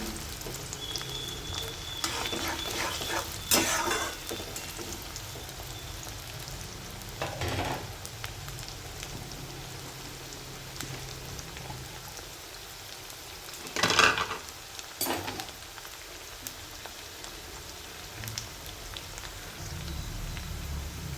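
Crushed garlic and ginger frying with onion in a pan, a steady soft sizzle close by throughout, broken by a few louder clatters and stirring scrapes of a spoon against the pan.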